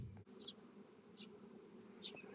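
Honeybees hum softly at an open hive during spring colony expansion, a low steady drone throughout, with a few faint chirps above it.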